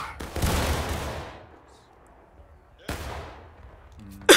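Two loud musket volleys in the Civil War game War of Rights, each a burst of overlapping shots that fades slowly, separated by a quieter gap with faint talk.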